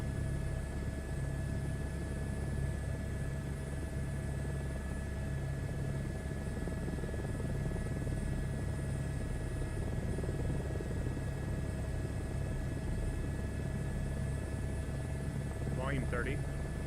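A helicopter in a flight simulator game gives a steady, loud drone with a constant low rotor thrum and a high whine, and a voice comes in faintly near the end.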